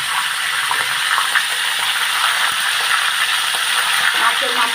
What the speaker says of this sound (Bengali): মাথাগুলোকে আমি ভেজে নিচ্ছি